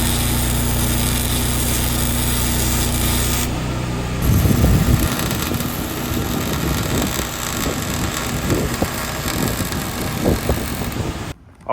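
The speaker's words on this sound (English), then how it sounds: "So my welder came, started up the welder." Engine-driven welder running steadily while a differential is welded, a continuous loud engine hum with crackling, buzzy bursts from the weld arc over most of the stretch, ending abruptly.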